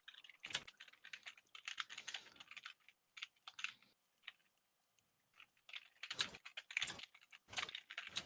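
Computer keyboard typing comes in quick irregular bursts of sharp clicks and clatters, close and fairly quiet, with short pauses between flurries and no talking.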